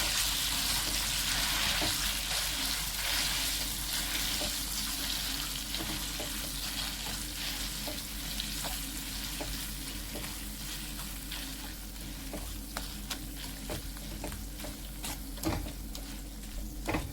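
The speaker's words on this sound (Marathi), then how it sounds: "आपला खवा पण आता छान परतून झालाय।" Khoa roasts in a pan for carrot halwa, a continuous soft sizzle broken by scattered scraping and tapping stir strokes, steady and close throughout.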